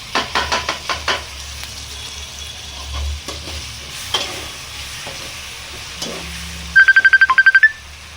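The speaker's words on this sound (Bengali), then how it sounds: "তো আমার পেস্টটা একটু ফ্রাইতে দাও, একটু লাল লাল হতে হইব।" Ginger, garlic and tomato paste fry in a pan over onions, giving a faint sizzle broken by several sharp spoon-stirring knocks, with a phone ringtone chiming briefly near the end.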